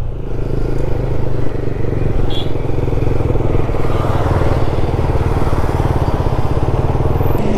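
KTM Duke 250 Gen3 motorcycle ridden along, a loud, continuous engine rumble with a rapid pulsing exhaust beat and some clatter, steady throughout.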